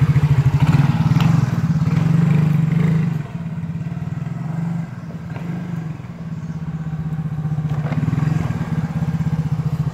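A scooter engine idles and putters steadily close by after a noisy disc brake is fixed, with a rhythmic mechanical clatter and slight revving swells.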